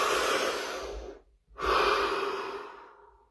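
A deep breath taken close to the microphone: a long, loud airy inhale, a brief pause, then a long steady exhale that slowly fades, heard alone.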